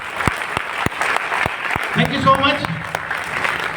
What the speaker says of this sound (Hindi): एक बार जोरदार तालियां चाहूंगा आपसे